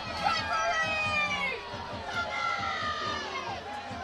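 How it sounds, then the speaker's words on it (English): A soccer crowd at a match between Asheville City Soccer Club and Atlanta Silverbacks reacts after a referee's non-call, a steady wash of stadium voices, murmuring and calls, with no clear cheer, heard at a distance. "the crowd is not happy about that non-call"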